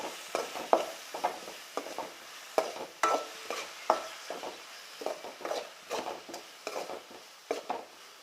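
Chili with a ginger, garlic and cumin paste fries in a pan while a spoon stirs it in repeated scraping strokes, a steady rhythm of clinks and scrapes over a quiet sizzle.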